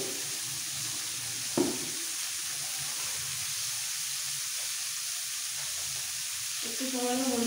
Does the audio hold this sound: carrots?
yes